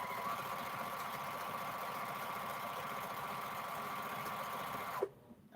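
A sewing machine stitching 2.5-inch fabric strips together runs in a fast, steady mechanical whir for about five seconds, then stops abruptly, leaving near silence.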